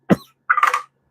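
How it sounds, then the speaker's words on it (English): A person gives two close, sharp coughs: a short burst followed by a rougher, longer one, with silence around them. "I breathed in and now I'm coughing."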